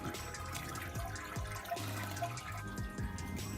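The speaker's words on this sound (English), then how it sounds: "just gently rinsing those grains through the top" Water trickling and splashing as grains are gently rinsed from the top during sparging for a home-brewed kettle sour gose, a continuous close running pour with small drips and gurgles.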